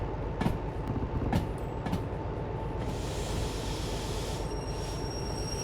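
Train rolling along the track in a video game, a steady continuous rumble with a few sharp clicks early on and a faint high ringing tone later, with no talking.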